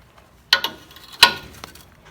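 Two sharp metallic cracks, one near 0.5 s with a quick follow-up and another near 1.2 s, as a wrench breaks loose a 14 mm bolt on the rear brake of a 1962 Volkswagen Type 2 bus, close and alone.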